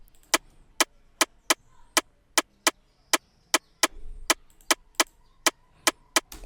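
A second sharp wooden percussion sample from a dancehall afrobeats beat plays a quick, syncopated pattern of crisp clicks, layered to double an earlier percussion line, with a faint low thump in the middle.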